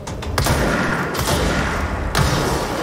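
Enemies exploding in the Control video game, a loud rapid burst of booming blasts and thuds, with a couple of sharp bangs standing out over a dense rumbling bed of game noise.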